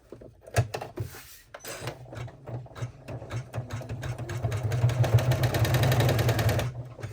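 An embroidery machine stitching the tack-down step of an in-the-hoop mini wallet, a close, rapid mechanical chatter that starts after a few clunks and builds into a steady, louder run before stopping.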